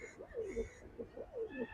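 Domestic pigeons coo close by, giving two soft, rolling, throaty calls in a row. Quiet and alone.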